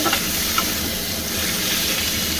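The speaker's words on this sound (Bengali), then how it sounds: "এবার টমেটো কুচিয়ে রেখেছিলাম একটা, সেটা আমি দিয়ে দিলাম। টমেটোটা এখানে একটু নেড়ে ছেড়ে নরম করে নেব।" Chopped tomato frying with browned onions in a pan for a prawn and taro stolon dish, a loud, steady hissing sizzle with a few light stirring clicks, close up and alone.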